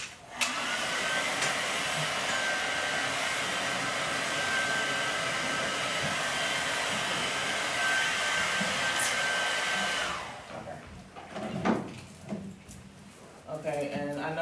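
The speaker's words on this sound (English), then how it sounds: "if you just blow dry with your pick attachment first and then style it" A blow dryer with a pick attachment drying hair in a salon, a loud, steady whirring roar that runs for about ten seconds before cutting off, followed by quieter handling noises and brief voices.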